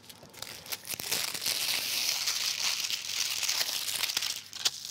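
Continuous paper crinkling and rustling, close by, as a board is lined with paper in a kitchen, with a few sharper crackles and handling knocks throughout; no voices.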